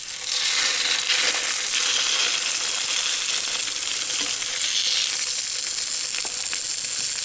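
Fish burgers fry in a pan with garlic, giving a steady, loud, hissing sizzle that holds throughout, with faint scraping clicks here and there and no talking.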